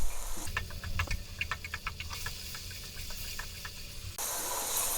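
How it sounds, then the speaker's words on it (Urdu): Boiled chickpeas frying in a pan for chana pulao make a steady hiss, with quick crackles and pops scattered through the middle and a louder sizzle coming back at the end. "چنے ڈالنے کے بعد بھی میں نے اس کو 1 سے 2 منٹ اچھے سے فرائی کر لیے"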